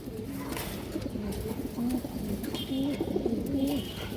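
Domestic pigeons coo repeatedly in low, throaty calls against a busy background hum, with faint voices nearby.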